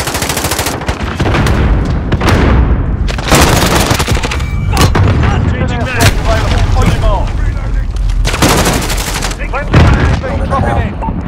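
Airstrike explosions in Call of Duty Modern Warfare, loud heavy booms rolling one after another, mixed with bursts of gunfire and radio chatter throughout.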